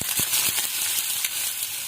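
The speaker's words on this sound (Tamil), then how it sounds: "வெங்காயம் பொன்னிறமாக மாறுற வரைக்கும் வதக்கிக்கலாம்" Finely chopped onions sizzle and crackle in hot oil for an egg curry, a steady frying hiss with a few sharper pops as they are stirred.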